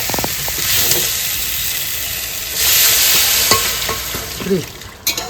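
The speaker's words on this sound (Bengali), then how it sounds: "মাংসটা ভালো করে আমি কষিয়ে নিচ্ছি" Mutton for curry is sautéed in a pan, giving a loud, close sizzle and fry with repeated scraping, clanking stirs of a spatula against the metal, including a louder burst of sizzling midway.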